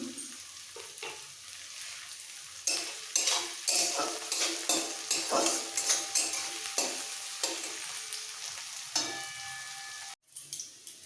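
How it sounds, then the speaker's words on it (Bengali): Sliced onions sizzle in hot oil over a medium-high gas flame with a pinch of salt, a steady close frying hiss broken by repeated scraping stirs of a spatula against the pan, ending in a brief cut and quieter sizzle. "পেঁয়াজ ভাজা হয়ে গেছে এরকম লাল লাল করে ভেজে নিতে হবে"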